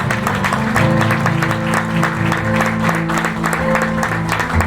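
Audience applause at a graduation ceremony, a steady dense wash of clapping held at an even level throughout, with a sustained musical or droning tone running underneath.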